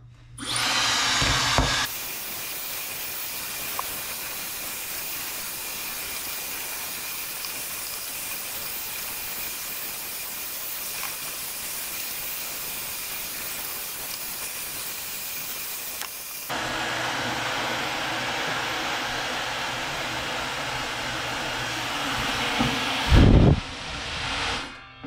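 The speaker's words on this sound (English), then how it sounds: "here's the Dyson vacuum hair dryer. Set my timer for 5 minutes" A Dyson hair dryer runs continuously while drying hair, a loud steady rushing whoosh of air that shifts in tone partway through, with brief handling bumps near the start and end.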